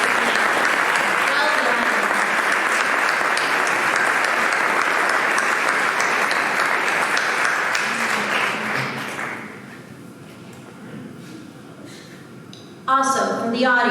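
Loud, full audience applause for competitors at a university Three Minute Thesis competition, sustained for around nine seconds before dying down, then a brief spoken remark.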